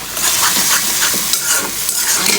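Fish and potatoes sizzle and hiss in hot oil with spices while being stirred and scraped in a pan, a loud continuous fry with repeated stirring strokes.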